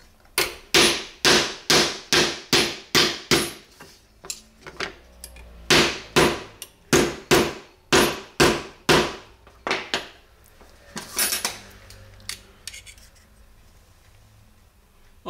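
Repeated loud metallic hammer blows on hairdressing scissors in quick rhythmic bursts, close by, with a brief pause midway and scattered lighter knocks toward the end.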